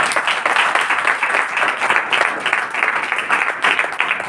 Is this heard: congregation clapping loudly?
yes